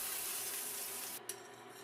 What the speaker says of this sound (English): Place the portobello mushrooms on top side down and pan fry for about 5 minutes until lightly golden brown.